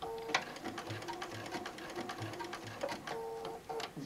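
Sewing machine stitching a pre-printed quilt pattern, a quiet steady rapid ticking whir with a few louder clicks and brief pauses, heard close by with no talking.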